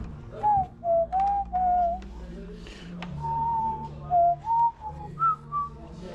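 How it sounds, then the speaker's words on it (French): Someone whistles a melodic tune in short held phrases with pauses between them, the notes clear and fairly close, set against a low steady background hum from a metal festival sound desk. "Je siffle pour essayer d'éviter un copyright."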